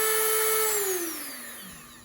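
Dremel rotary tool running at slow speed during a practice cut, a steady high whine that drops in pitch as the motor winds down near the end, with no talking.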